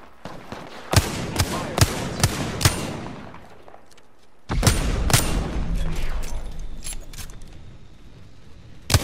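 Gunfire in the battle-royale shooter Apex Legends: a run of sharp, loud single shots, a brief lull, then a heavy stretch of sustained rapid fire with more crisp shots cutting through.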